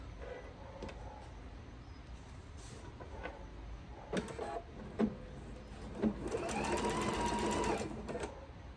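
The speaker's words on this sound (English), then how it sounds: "I'm going to stitch a scant 1/4 of an inch straight across this top" A sewing machine stitches straight across the top of a fabric placemat, with a few short start-and-stop bursts followed by a longer, steady whirring run of close stitching.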